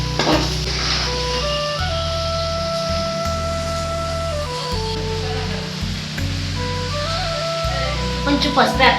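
Chicken frying in a pan gives a steady, close sizzle that runs the whole time beneath louder background music.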